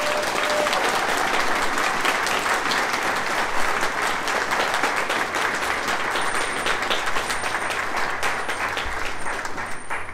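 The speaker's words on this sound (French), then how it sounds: "si vous voulez les applaudir et les remercier d'être là, ben c'est le temps" Audience at a ghost bike removal ceremony gives elected officials steady, dense applause, many hands clapping continuously and close for the full stretch.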